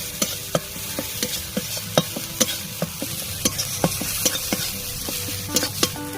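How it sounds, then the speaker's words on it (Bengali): Coriander and turmeric powder being stirred in a sizzling pan with a spatula for a village-style potol aloo dish, rhythmic scraping strokes over a constant frying hiss, close and alone. "আবার ভালো করে নাড়িয়ে নিচ্ছি।"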